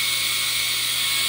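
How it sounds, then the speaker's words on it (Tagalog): A Jisoo Life handheld fan Pro 1S runs at high speed, giving a steady, loud whirring hiss with a faint motor whine, close and continuous with no talking. "Ito nga pala ang Jisoo Life, ang handheld fan Pro 1S."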